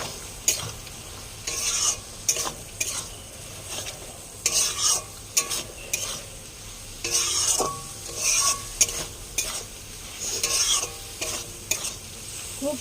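Soya chunks with spices being stirred and fried in a pan, a steady sizzle broken by repeated scraping stirs of a spoon against the pan at close range, with no talking.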